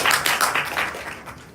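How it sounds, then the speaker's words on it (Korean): A short spatter of audience clapping at a university mechanical engineering capstone design presentation, a few seconds of scattered hand claps fading quickly. "박수."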